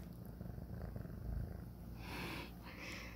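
A pet cat purrs softly and steadily up close, a low continuous rumble with faint breathing and snuffling mixed in.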